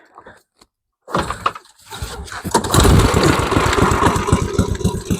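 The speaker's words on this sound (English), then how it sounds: "She's running on her own power." A snowblower engine pulls over, catches after a brief silence, and settles into a loud, close, steady running putter with rapid regular firing pulses.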